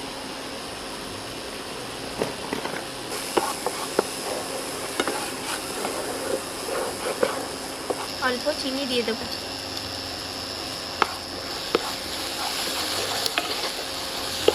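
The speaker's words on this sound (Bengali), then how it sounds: "মশলাটা আমার ভাজা ভাজা হয়ে গেছে মশলা থেকে তেলও ছেড়ে গেছে" Spices fry and are stirred in oil in a pan for a spinach kofta curry: green chili paste, Kashmiri chili, coriander and cumin powder. A steady low sizzle and scraping run throughout under someone talking.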